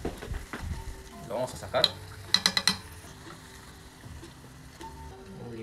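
Sweet potato pieces fry in hot oil with a steady sizzle while being stirred, utensil clinks and scrapes against the pot rising in a brief burst near the middle, under a person speaking.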